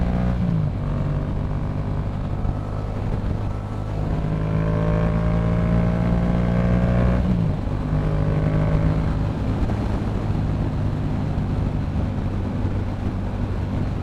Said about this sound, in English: Another thing that I like about this bike is the sound.